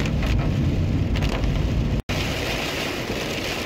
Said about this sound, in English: New record for the heaviest rain I've ever seen.